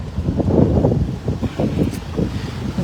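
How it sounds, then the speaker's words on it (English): Strong wind blows across a microphone outside a barn at a farm animal sanctuary, a loud, close, buffeting rumble that gusts unevenly throughout. "Don't know if you can see how windy it is"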